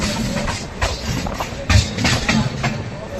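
A passenger train runs near Rourkela Junction with a steady rumble and rhythmic wheel clatter, and faint voices are under the noise.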